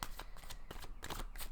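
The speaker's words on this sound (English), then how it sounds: "I'm going to start shuffling the cards" A deck of playing cards being shuffled, a run of crisp riffling bursts with short pauses between them, close and fairly loud, with no voices.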